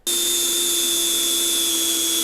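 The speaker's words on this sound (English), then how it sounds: "I'm gonna go grab my drill with the step bit" A cordless drill fitted with a step bit runs steadily through metal on a Chinese mini skid steer, giving a constant high-pitched whine with a sharp tonal edge that starts abruptly and holds loud and unbroken with no talk.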